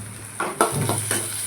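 Garlic drops into hot oil in a pan for a Tamil sundakkai kuzhambu, giving a steady close hiss with a few soft stirring knocks on top and no talking.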